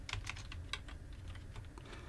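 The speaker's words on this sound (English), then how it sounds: "I'm going to type red" Quiet computer keyboard typing, a few distinct key taps spaced irregularly over about two seconds, close and alone with no voices.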